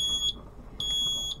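An electric wheelchair's warning alarm sounds as a high, piercing electronic beep repeated three times at irregular intervals, fairly close, with low background rumble and no talk.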